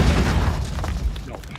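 A Semtex grenade detonates in the Warzone battle royale game, a loud booming burst that rolls out over continuous game noise while people talk over it.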